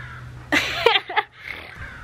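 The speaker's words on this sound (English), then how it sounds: "What are all these birds, Hunter?" Several crows caw outdoors in a short burst of harsh, rasping calls, fairly close and loud, fading into quieter background noise.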